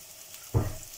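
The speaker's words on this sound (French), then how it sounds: "On va venir faire sauter nos petits champignons." Mushrooms dropped into a hot pan with olive oil and a pinch of salt, a brief low thump followed by a soft rising sizzle, close and quiet with no voices.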